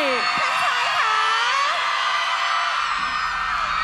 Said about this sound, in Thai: ขอเสียงกรี๊ดดังๆให้ท่านชายสักหนึ่งรอบค่ะ